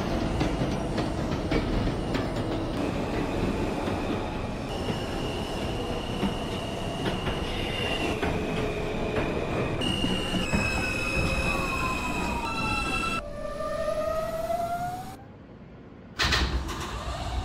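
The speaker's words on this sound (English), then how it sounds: "This is a Brooklyn-bound M train." A simulated R160 subway train on the M line rumbles and clatters steadily, with rising and falling wheel squeals and whining motor tones before a sudden drop-off near the end.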